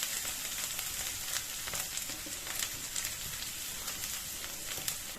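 Garlic sizzling in a pan over a low flame, a steady, even crackle of frying that runs unbroken from start to finish, with no voices.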